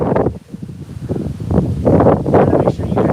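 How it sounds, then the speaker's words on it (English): Outdoors, wind gusts buffet the microphone in loud, uneven rushes that swell and ease, with no speech heard. "Oh, the wind feels so nice right now."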